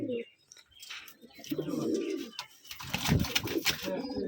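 Rajshahi Giribaz pigeons in a pigeon farm give soft, low coos from close by, rising and falling across the stretch with a few brief chirps, while someone talks over them.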